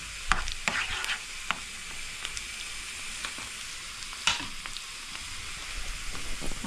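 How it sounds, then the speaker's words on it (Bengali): Panch phoron and chili flakes sizzle steadily in hot oil for a mustard-dal tempering, with a few sharp spoon scrapes and clicks against the pan standing out over the soft frying hiss. "ফোড়ন, চিলি ফ্লেক্স সবগুলো দিয়ে একটু সময় নেড়ে নেব"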